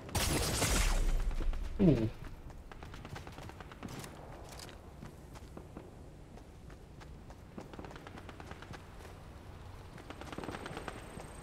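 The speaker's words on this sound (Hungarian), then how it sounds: "Lövéseket hallok, ott van." Scattered gunshots ring out in the Fortnite video game played on a laptop, sharp bursts after an opening rush of noise, then sparse, fainter reports with light footsteps continuing underneath.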